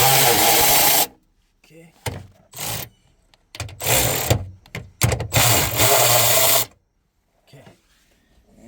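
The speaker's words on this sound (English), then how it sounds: "Let's remove those with a short electric ratchet." A short electric ratchet removes 10mm bolts from an Infiniti G37/G35 Bose subwoofer mount, giving several loud, close buzzing bursts of differing lengths separated by pauses, with brief spoken remarks among them.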